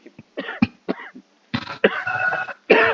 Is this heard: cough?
yes